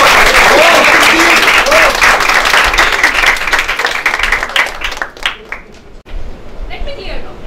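Audience applause welcoming contestant number 7 at a Toastmasters speech contest, with dense clapping filling the room before thinning out and fading into scattered claps and a speaking voice.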